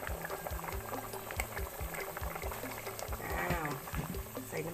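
Bamboo shoot curry with free-range chicken simmers in a pot, a steady bubbling boil with popping liquid throughout, close and moderately loud, with a voice faintly present.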